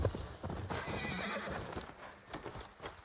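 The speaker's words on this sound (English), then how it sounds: "Samurai horses." Horse hooves clip-clop with a whinny over a busy Ghost of Yotei game soundscape, moderately loud and continuous.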